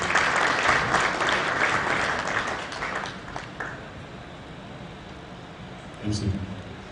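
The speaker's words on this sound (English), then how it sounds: "Another round of applause, please" An audience at a conference in Kigali gives sustained applause that fades away; a voice speaks briefly near the end.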